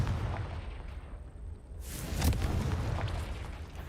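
A Confringo blast spell going off in Hogwarts Legacy, a sudden bright explosive burst near the middle that rolls out into a rumbling boom over ongoing background noise.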